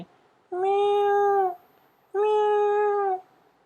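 A cat gives two sustained meows in a row, loud and close, separated by a short quiet pause.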